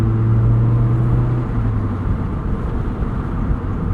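A 2009 Mazda MX-5 Miata with a 2-liter inline four and five-speed manual pulls hard, its engine droning loud and steady from inside the cabin, tone dropping slightly partway through.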